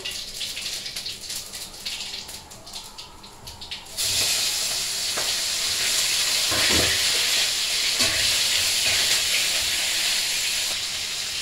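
Cumin seeds hit hot oil with a sudden loud sizzle that settles into steady frying hiss, before hilsa fish heads go in for a bottle gourd dish.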